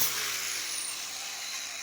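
A grinder with a flat disc works on the pinch seam of a 1995-or-later Geo Metro LSi front clip, giving a continuous high-pitched, harsh whine that stays steady and close for the whole stretch.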